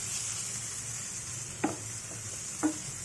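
Potatoes, capsicum, tomato and onion fry in a pan with a soft steady sizzle, broken by two sharp clinks of a spoon against the pan.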